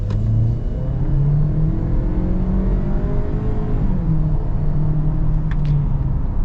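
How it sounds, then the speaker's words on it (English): A 2021 Ford Edge Titanium with a 2-liter turbocharged engine pulls away at full throttle, a steady engine drone rising in pitch through the gears with a brief shift dip, heard from inside the cabin with no talking. "We're gonna get our full-blown acceleration here with the Edge."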